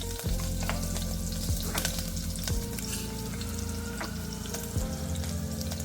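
Vegetables and green chilies sizzle and fry steadily in a pan for Telugu-style vegetable kurma, a continuous close crackling hiss with occasional stirring scrapes and no talking.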